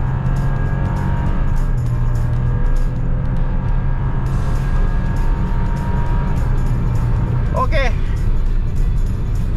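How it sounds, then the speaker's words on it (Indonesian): A Toyota Agya GR with an automatic transmission launches from a standstill and accelerates hard during a 0–100 km/h test, its engine a steady drone heard from inside the cabin while people talk over it. "tinggal injek rem bareng sama gas, nanti remnya dilepas. Udah jalan."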